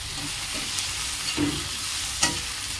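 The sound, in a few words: frying green chilies and tomatoes in a pan for fish curry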